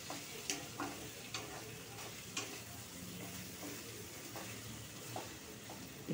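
Boiled taro and onions sizzle steadily in a pan, an even frying hiss punctuated by occasional clicks and scrapes of a spatula stirring the mixture.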